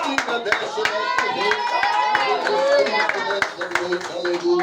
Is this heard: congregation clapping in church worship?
yes